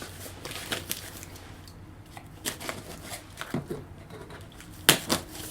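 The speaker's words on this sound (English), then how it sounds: "cutting through all of this tape" A blade cuts through packing tape on a cardboard box with scattered rasping slices and crinkles, quiet and close, with a sharper rip near the end.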